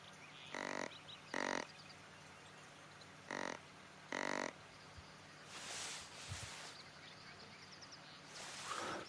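Turkey calls in the hunting video game Hunter Call of the Wild: several short, raspy calls in quick pairs over quiet ambient outdoor noise, with a few softer, breathier sounds afterwards.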